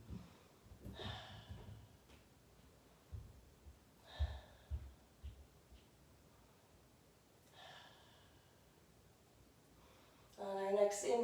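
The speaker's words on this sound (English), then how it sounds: "We'll take 3 breaths here." Slow, deep yoga breaths in triangle pose: three faint, airy inhale-exhale swells spaced a few seconds apart, close and quiet, followed by a brief burst of voice.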